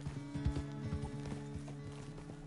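Horse hooves clip-clop at an easy walking pace while riding in the video game Red Dead Redemption 2, a steady run of moderate hoofbeats over a soft, constant tonal hum in the background.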